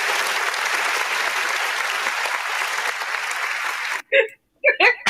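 An audience gives a round of applause, a dense, loud wash of clapping for about four seconds that cuts off abruptly, followed by a few brief spoken words.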